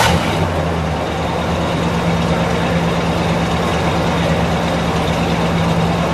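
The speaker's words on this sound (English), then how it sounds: "Give it a little kick down. It sounds like it's a little high revving." A 1967 Buick GS 400 convertible's engine runs loudly and steadily, a deep low rumble that holds fairly constant throughout, close by with no voices.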